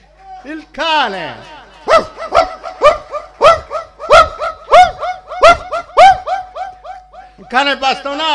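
A human voice imitates a dog, giving a rapid series of about a dozen loud yapping barks and yips in a steady rhythm, close and clear, during a comedy show performance.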